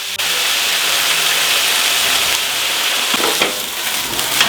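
Sliced onions sweating in a pan for coq au vin after cognac has been added, giving a continuous bright sizzle and hiss with a few stirring clatters late on.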